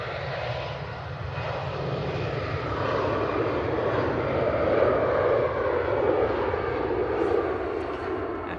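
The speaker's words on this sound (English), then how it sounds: "I've got another Aer Lingus prop on finals from Dublin." An Aer Lingus propeller airliner on final approach into Manchester Airport from Dublin, its steady engine drone filling the air and swelling a little louder midway before easing slightly, with no voices.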